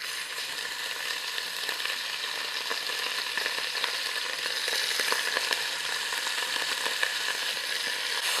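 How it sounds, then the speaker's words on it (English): Beef stew cubes sear in oil in a very hot pan, cooked in small batches, giving a steady, dense sizzle with scattered crackles and pops that holds level throughout, with no voices. "We're gonna add a little bit of oil to our piping hot pan, and we're gonna cook off this beef in small batches."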